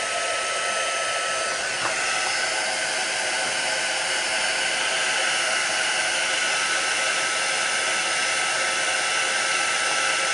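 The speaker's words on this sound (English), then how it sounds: "we have to get the fan heat tool going" A fan-driven craft heat tool, used for Stampin' Up card embossing, blows with a steady, hissing whir for about ten seconds and stays constant throughout.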